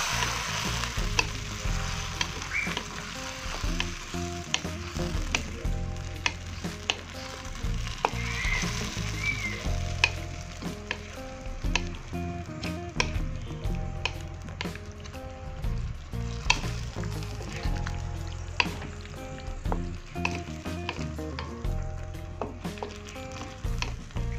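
Shark pieces fry in a pan for an Acehnese-style stir-fry, a loud steady sizzle with constant rhythmic clatter and scraping of a spatula stirring against the metal, close up with no talk.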